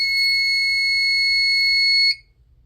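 A building fire alarm system sounds a loud, steady high-pitched electronic tone during a system test, then cuts off abruptly, leaving near silence.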